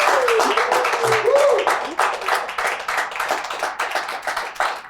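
Wedding guests applaud right after a couple is pronounced married at a Texas ceremony, a dense, steady burst of many hands clapping that fills the room, with a few voices and whoops mixed in.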